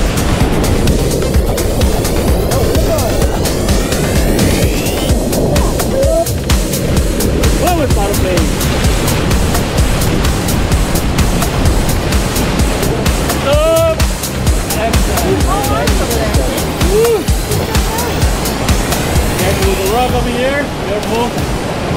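Rushing whitewater on the Pacuare River in Turrialba, Costa Rica, heard from a raft: a constant loud roar of churning rapids with splashes, and people talking over it throughout.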